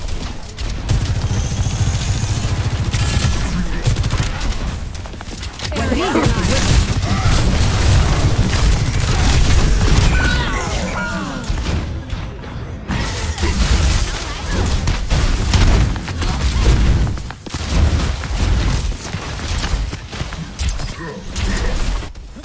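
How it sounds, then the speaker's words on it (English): Bombs going off in the Overwatch game, a dense, loud barrage of booms and crackling bursts that keeps up the whole way, with brief in-game voice lines mixed into the clatter. "Plenty of bombs to go around."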